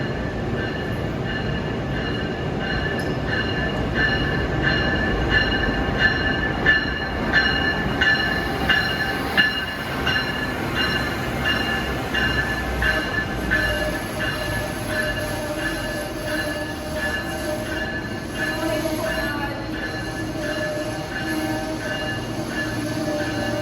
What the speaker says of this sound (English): And the train is coming in right now.